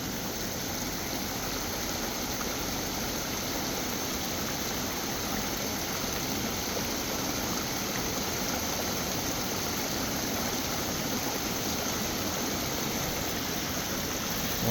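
A mountain spring stream at the Mount Shasta headwaters rushes steadily and close by, a dense, even wash of flowing water that holds constant from start to finish with no voices.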